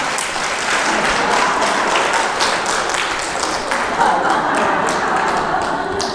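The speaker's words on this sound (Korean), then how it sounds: "박수 왜 치는데?" Steady, dense clapping from an audience at a Catholic Holy Spirit prayer meeting lecture fills the room without a break, loud and even throughout.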